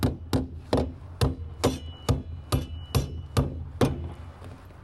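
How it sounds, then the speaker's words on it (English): A hammer driving nails through roof sheathing into the studs below, about ten sharp, regular blows roughly half a second apart, close and loud, with no speech. "And hammer in your nails."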